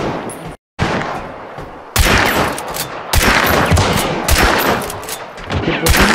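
Gunfire in the video game Hunt: Showdown comes as loud, close shots and rapid bursts with dense reverberant noise between them, following a brief dropout near the start.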